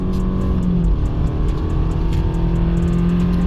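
A 2018 Subaru Outback Limited with the 2.5 engine and automatic transmission accelerating hard from a standstill toward 100 km/h, a steady droning engine note heard from inside the cabin with a gradually shifting pitch.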